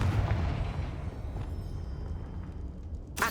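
Confringo explosive spell cast in the Hogwarts Legacy video game, a dense rumbling boom that rolls on steadily for a few seconds with a brief sharp crack at the end, no talking.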